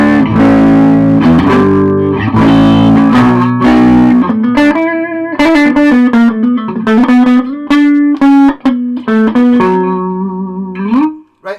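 A Peavey ValveKing VK112 guitar amp with distortion switched on plays loud, saturated electric guitar chords and single-note runs, ringing with sustain and ending in a final slide.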